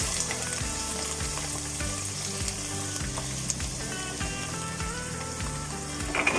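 Diced potatoes and peas sizzle loudly in oil with browned beef mince in a pan for keema aloo matar. A dense, continuous frying crackle fills the clip, with occasional stirring sounds and no voices.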